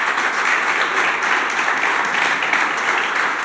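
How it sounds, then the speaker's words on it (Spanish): Church congregation applauding together, a steady, loud wash of clapping that fills the whole moment without pause. "¿Por qué no le das un aplauso al Señor entonces?"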